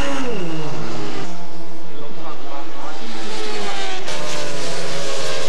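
Racing motorcycles at the 1988 Suzuka 8 Hours endurance race rev and pull away from the pit lane, a loud rising engine whine with shifting pitch and a sharp burst near the end, heard over a broadcast commentary voice.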